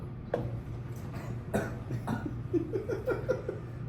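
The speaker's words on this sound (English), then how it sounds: "what are you coughing?" A person coughs several times in quick, harsh bursts, followed by a rapid run of throaty hacking coughs close to the microphone.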